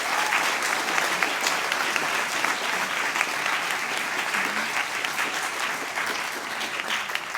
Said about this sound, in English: give them one more big, loud university applause